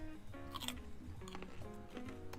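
Crunchy food being bitten and chewed close to the mic, a series of crisp crackling crunches in an uneven rhythm, with no talking over it.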